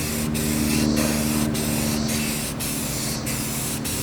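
Filler primer sprays in a heavy coat onto a DIY angel blade prop, a steady close hiss from an aerosol can broken by short regular pauses between passes.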